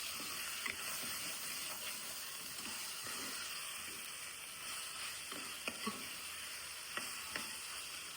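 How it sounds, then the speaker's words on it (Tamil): Potatoes sautéed in the oil and masala base of a village-style chicken curry, a continuous soft hissing sizzle with occasional light stirring clicks, steady and moderately quiet. "உருளைக்கிழங்கு சேர்த்துட்டு ஒரு வதக்கிட்டு சிக்கன் ஆட் பண்ணிக்கலாம்."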